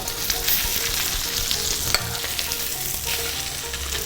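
Steak frying in a hot pan, a loud continuous sizzle with a couple of brief knocks as it is handled and turned, and no voices.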